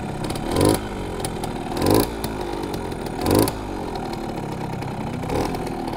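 A Simson S51 moped on its first ride, its small two-stroke engine buzzing steadily and swelling into four short rhythmic revs, loud and close, with no talking.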